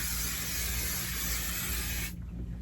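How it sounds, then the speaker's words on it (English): An aerosol can sprays basting adhesive liberally onto a quilt hung on a wall, one continuous close hiss that cuts off near the end, leaving faint room noise. "I'm just going to spray very liberally"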